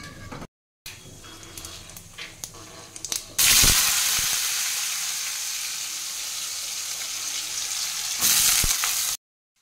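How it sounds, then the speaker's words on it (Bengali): Bengali five-spice seeds are dropped into hot oil and burst into a loud, sudden sizzle that holds steady and close, after quieter kitchen clatter and a brief pause. "তেল দিয়ে 5 ফোঁড়ন সোমবার দিয়ে দিলাম"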